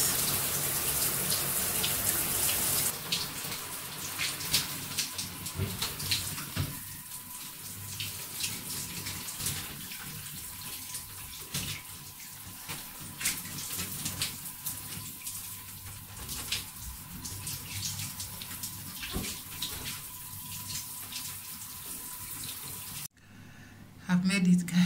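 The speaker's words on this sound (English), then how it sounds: "Okay, hot water is coming now." Hot water running from a shower tap, a steady hissing spray that pours on for a long stretch, close by, with some splashing and a sharp cutoff near the end.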